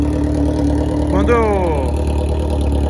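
A Yamaha XJ motorcycle engine idles with a steady low rumble under a man's nearby speech, with a brief rising whine in the middle.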